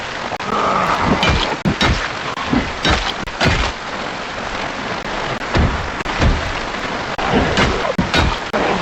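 Steady rain falls outdoors in the woods with a continuous hiss, broken by heavier thuds and patters of drops landing close by.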